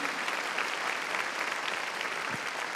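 A church congregation claps loudly during a Sunday evening service, a dense, continuous burst of applause from many hands throughout.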